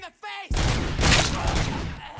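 Sustained heavy gunfire in RoboCop: Rogue City, a loud continuous fusillade that starts abruptly after a brief voice and keeps roaring close up for about two seconds.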